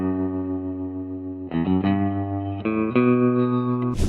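Electric guitar played through a Valeton GP-5 multi-effects unit with subtle tremolo and reverb, ringing sustained chords that change every second or so, close and clear, with no talking.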